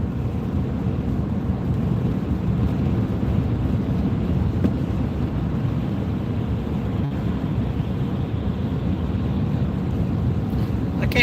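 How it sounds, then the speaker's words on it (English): Strong wind buffets the microphone during a boat ride, a steady, loud low roar lasting throughout with no breaks and no clear voices. "I can't wait to turn north and get out of this wind."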